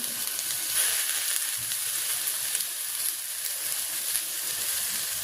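Onion and vegetable bhaji frying in a pan in a village kitchen on a winter morning, a steady close hiss and sizzle that runs unbroken with no talk over it.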